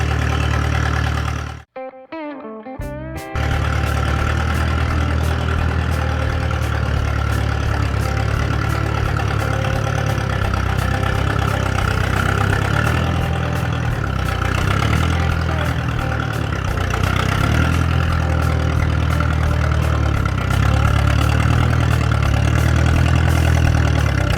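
A Ferguson TEA 20 tractor engine idles steadily and loudly while warming up, a low rumbling chug with a brief dropout near the start.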